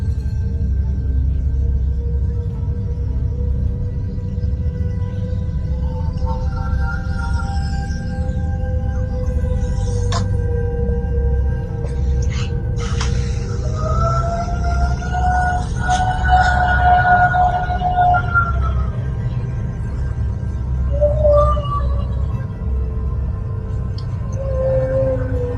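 An ambulance siren wails faintly in Monterrey, Mexico, rising and falling over a low, steady rumble, distant and drawn out without any talking.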